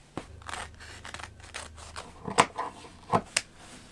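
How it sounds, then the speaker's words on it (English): Scissors snip the sleeves off a thrifted floral dress: a soft rustle of fabric, then three crisp, close cuts in quick succession. "Maybe we just like cut the sleeves off because we don't need them."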